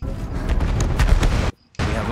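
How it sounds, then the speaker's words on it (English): Loud, dense battlefield gunfire and booming cannon shots in the Battlefield 1 video game as a bomber is hit. The rapid bursts run continuously, then cut to brief silence before resuming. "I hit the bomber with the cannon!"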